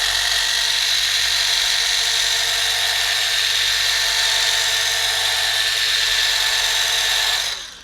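A Liquid Elements A1000 mini rotary polisher spreading polish gives a loud, steady high-pitched buzz that runs without a break before cutting off at the end.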